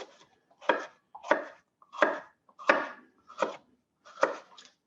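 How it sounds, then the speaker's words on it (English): Knife cutting vegetables into thin julienne strips on a cutting board for a black bean salad, six crisp evenly spaced chops, close and clear with no talking. "we're just going to start cutting these really thin"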